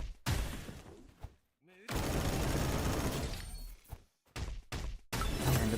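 Revolver barrage gunfire in the Roblox game Kaizen, dense bursts of rapid shots and crashing impacts in several loud stretches, with short gaps of near silence and brief pitched effects between them.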